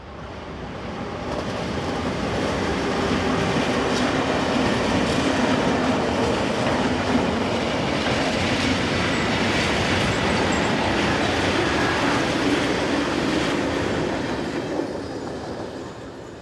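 A Vectron electric locomotive rolls past with a steady, loud rumble and rattling wheels that swells and fades slightly at the ends, with no voices.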